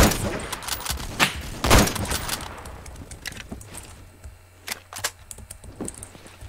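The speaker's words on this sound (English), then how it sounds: "Let's use some Remington. Finally, we got an actual sniper." Remington sniper rifle fire in the video game Phantom Forces: several sharp, separated cracks, the loudest near the beginning, with other distant shots and quieter in-game clatter around them.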